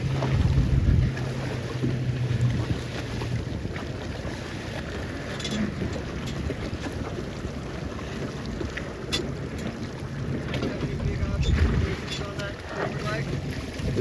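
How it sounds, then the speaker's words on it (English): Wind gusting across the water during a C420 sailboat regatta, a loud, steady rumble of wind noise buffeting the microphone, with waves and boat sounds underneath and a few brief surges. "We finally have wind at a regatta."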